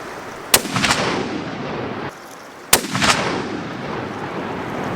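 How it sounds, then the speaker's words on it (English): Two loud hunting-rifle shots crack out about two seconds apart as the rifle's zero is checked in open country. Each sharp report is followed by a rolling echo that fades away. "it's imperative we check the zero of David's rifle before heading out"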